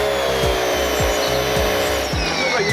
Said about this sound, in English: Pressure washer on first is usually a good help.